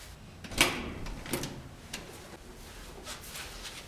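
A door being opened gives a single sharp click near the start, then a few softer knocks and rattles, fairly close, with no talking over it.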